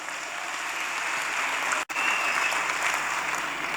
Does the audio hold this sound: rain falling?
no